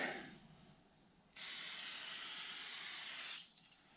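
A two-second burst of aerosol cleaner sprayed onto the flywheel of an air-cooled VW stroker engine, a loud steady hiss starting and stopping abruptly in a quiet workshop.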